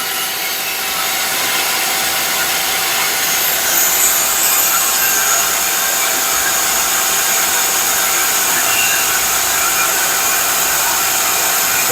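Mazak CNC mill on a 250 lathe-type setup cutting with an end mill, a steady bright high-pitched machining hiss and whine that runs unbroken at fairly loud level, with no voices.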